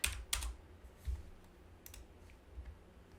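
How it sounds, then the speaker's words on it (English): Typing on a computer keyboard, a few scattered soft clicks and taps at an irregular pace, quiet and close with no talking. "wake my fingers up so I can type"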